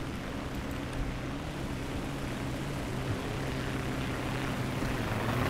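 Biplane and monoplane propeller engines in War Thunder droning steadily overhead, a continuous buzzing hum that swells slightly toward the end, with no voices.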